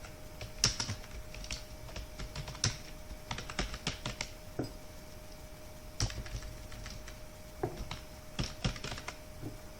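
Typing on a computer keyboard while writing in Microsoft Word: irregular bursts of close, crisp key clicks with short pauses between runs of strokes, with no talking over it.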